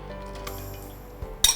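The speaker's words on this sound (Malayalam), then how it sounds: "ഇനി ഐസ് ക്യൂബ് ഇട്ടു." Ice cubes drop into a glass of nungu sherbet made with butterfly pea flowers, giving a few sharp, close clinks near the end after a quiet start.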